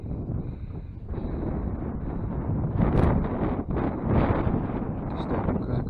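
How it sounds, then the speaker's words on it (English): Strong gusting breeze roars across the microphone at a wild camp beside Floutern Tarn, swelling and easing in loud buffeting waves with no clear speech. "Still quite breezy, I'm going to have to find a sheltered spot here"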